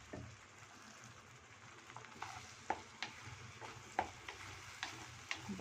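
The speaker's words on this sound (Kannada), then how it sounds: "ಗ್ರೇವಿ ರೆಡಿ ಇಟ್ಕೊಳ್ಳಿ. ಗ್ರೇವಿ ಹಾಕ್ಬಿಡೋಣ." Shahi paneer gravy sizzles and fries in a hot buttered pan, a steady soft crackle with occasional stirring ticks and clinks, fairly quiet and without talk.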